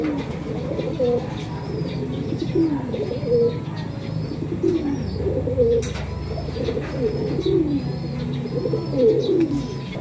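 Racing pigeons being readied for a derby coo in a loft, their low, throaty calls repeating in a steady rolling rhythm close by. Faint chirps and other bird sounds rise from time to time.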